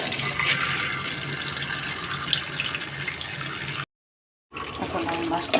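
Chapila fish are rinsed under running tap water, a steady splashing hiss that cuts out for a moment and then resumes.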